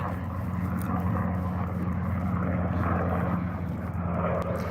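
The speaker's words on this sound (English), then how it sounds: "Oh, helicopter. It's an army helicopter." A steady, loud engine drone from a Black Hawk army helicopter passing overhead, with a constant low hum that barely changes throughout.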